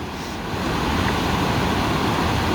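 Water rushing over a dam on the Doe River in Tennessee, a steady, loud broadband roar that builds slightly and holds without pause, with no voices.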